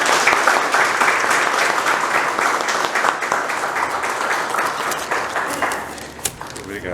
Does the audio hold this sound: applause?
yes